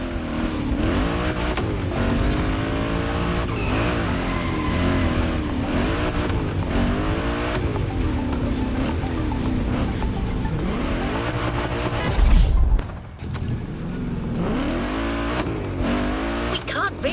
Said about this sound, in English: This runway is one of the best places to drag race on the island. Warm up your engine and don't blink.